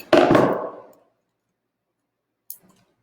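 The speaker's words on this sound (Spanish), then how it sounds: "Y le cortamos acá el alambre" Wire being cut with a single sharp snip while a Catasetum orchid is transplanted, a close, crisp click with a brief tail, followed after a pause by a faint small tick.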